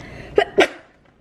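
A person sneezes, two quick close bursts in rapid succession, a short inhaled catch followed by a sharp explosive release, then quiet.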